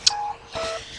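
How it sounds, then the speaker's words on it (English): A phone call ringing in a Pokemon video game, heard as short chiptune-style electronic tones that start with a sharp high blip and then repeat in a steady on-off pattern, clear and fairly loud. "Ring ring! Phone call!"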